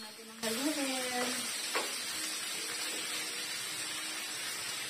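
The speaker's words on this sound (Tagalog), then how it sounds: "So, ayan, haluin lang natin ang haluin." Smoked fish (tinapa) being stirred in a pan while sautéing, a soft continuous sizzle with a spatula scraping through it, and a voice speaking briefly at the start.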